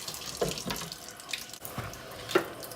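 Tap water runs into a kitchen sink while raw chicken is rinsed, a steady close splashing flow with uneven bursts and spatters as the pieces are handled under the stream.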